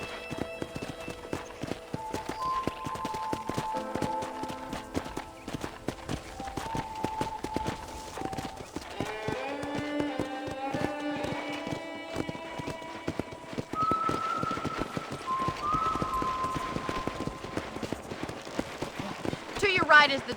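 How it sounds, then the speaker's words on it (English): Horse hooves clip-clopping at a steady walking pace while riding through a ranch in the video game Red Dead Redemption, accompanied by a gentle musical score and a voice talking over the hoofbeats. "let's see if you can still ride a horse"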